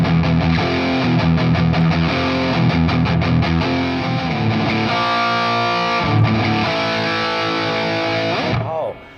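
Dry high-gain electric guitar run through an IK Multimedia Tonex pedal with no reverb, loud tight chugging riffs and sustained chords over about nine seconds, stopping abruptly near the end.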